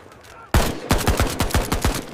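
Gunfire in a Normandy 1944 battle, with a sharp opening shot and then a rapid run of close, punchy rounds firing in quick succession, loud and uneven like a fusillade.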